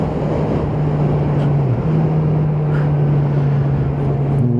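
A motorcycle engine drones steadily on a twisty mountain road between Dalen and Evje in Norway, a loud sustained hum with a dip in pitch partway through, mixed with wind rush over the microphone.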